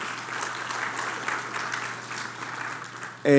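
A church congregation claps throughout at Easter Sunday service, a dense, even patter of applause filling the room before a louder sound cuts in at the very end.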